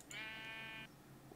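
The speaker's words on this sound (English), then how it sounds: "Move, Mr. Sheep." A single sheep in Minecraft gives one clear, nasal bleat lasting under a second, close and alone over faint background hum.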